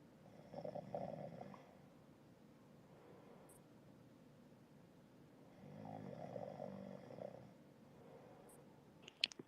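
A man snores softly in a quiet room, two long rumbling breaths several seconds apart, low and fairly faint, with no talk.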